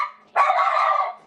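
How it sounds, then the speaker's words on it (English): A pet dog barks once close to the microphone, a single loud sustained bark or yelp that cuts in after a quieter moment and holds for nearly a second before trailing off. "I'm sorry, that's my dog."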